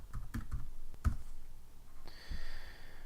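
A handful of soft keystrokes on a computer keyboard as a password is typed, scattered quiet taps close by over a faint room background.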